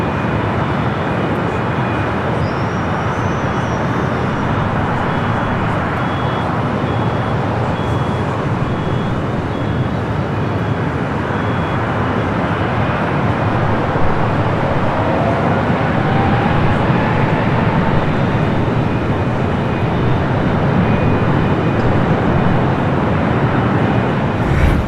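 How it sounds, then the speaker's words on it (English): Japan Airlines Dreamliner airliner arriving at LAX from Tokyo Narita: a steady, loud, broadband jet roar that stays even and heavy for the whole stretch, with no voices. "Japan Airlines flight 62, the Dreamliner, coming in from Tokyo Narita."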